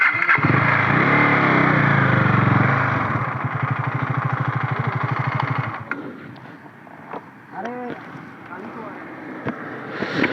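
A motorcycle engine idles and revs close by for several seconds, with a rhythmic throbbing that then fades and cuts out. Wind buffets the microphone and people talk toward the end.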